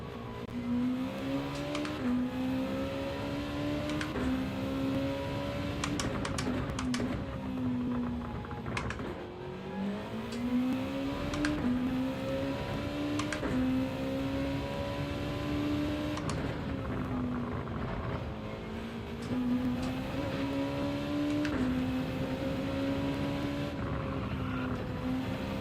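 A race car engine in Gran Turismo 7 online daily races revs and drops repeatedly through corners, its pitch rising and falling in smooth sweeps, with faint clicking controller inputs underneath.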